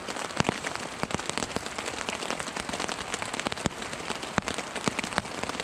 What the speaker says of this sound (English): And it looks like it's turned back to rain again.